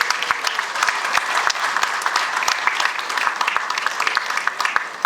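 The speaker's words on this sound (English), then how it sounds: "please give a round of applause to the people here who have organized it for 17 years" Audience applause at the Festa Italiana festival kick-off in Syracuse, a crowd clapping steadily with dense, overlapping hand claps throughout, fairly loud and continuous with no talk over it.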